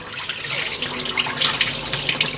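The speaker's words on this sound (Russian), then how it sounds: "Рис промывается несколько раз, пока вода не становится прозрачной." Water splashes and sloshes steadily as rice is rinsed, with a trickling, watery churn close by.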